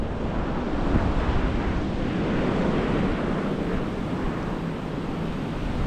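Ocean surf rolling onto Diani Beach in Kenya, a steady broad wash of waves mixed with heavy wind buffeting the microphone, continuous and fairly close, with no voices.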